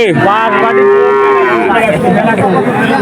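A cow at a rural cattle market lets out one long, loud moo with a steady drawn-out tone, close by, followed by a murmur of market chatter in the background.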